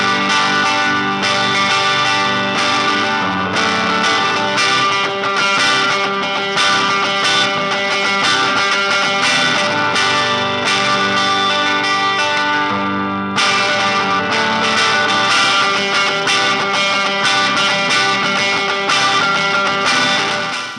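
Gibson Les Paul electric guitar with Burstbucker Pro humbucking pickups, played through distortion and chorus effects in a continuous dense riff of strummed and picked notes, loud and close, with a brief dip partway through and no voice.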